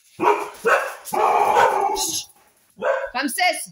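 A dog barks several times in short bursts at close range, with a person's voice heard briefly between the barks.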